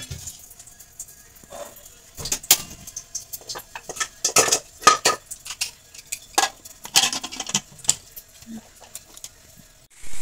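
A pressure cooker lid is closed over a pot of village-style sour amra (hog plum) curry, giving a string of sharp close metallic clicks and clanks with short pauses between them.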